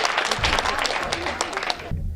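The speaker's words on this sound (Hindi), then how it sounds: "एक बार जोरदार ताली" Audience applause greets a performer at a Hindi comedy poetry gathering, a dense burst of clapping lasting about two seconds before cutting off abruptly.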